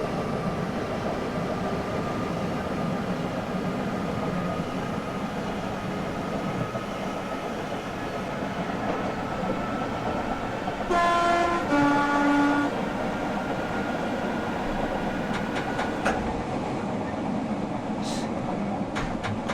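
Train running on the North London Line in the OpenBVE simulator: a steady rolling rumble with a brief horn-like tonal burst in the middle, followed by fainter high squeals.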